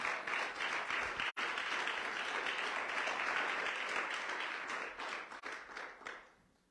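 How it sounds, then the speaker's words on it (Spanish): Steady applause from a church congregation in a Spanish-language evangelical service, a sustained patter of many hands that fades out over the last second or so. "Denle un aplauso al Señor."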